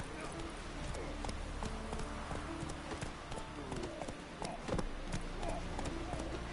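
Hooves of Roach, Geralt's horse in The Witcher 3: Wild Hunt, clop in a steady run of beats under game music and ambience, with voices talking over them.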